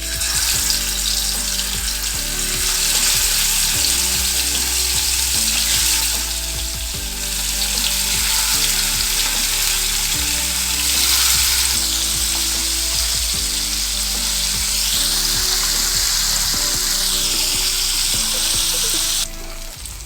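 Marinated sardines hiss and sizzle steadily as they are laid one by one into hot oil for a crispy Kerala-style fry, a loud continuous crackle with brief stirring and clattering beneath it.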